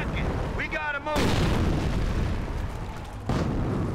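Mortar fire in the Company of Heroes video game, with booming explosions bursting out in two heavy thumps amid battlefield rumble, and a voice talks nearby.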